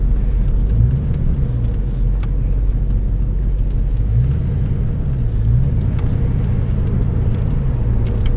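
A low-mileage, stock original Ford Fox-body Mustang with the 5.0 V8 rumbles loudly and close by, its engine note swelling and easing as it accelerates, with no voices over it.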